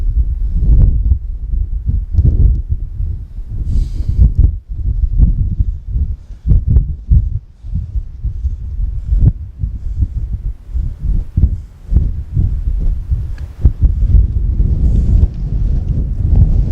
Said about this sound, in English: the wind's pretty ridiculous right now